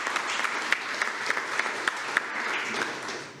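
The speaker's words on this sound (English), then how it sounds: "let's give that second place silver medal show a round of applause" A crowd at a school board meeting applauds a second-place silver medal show with steady, moderately distant clapping that has a few sharper claps standing out.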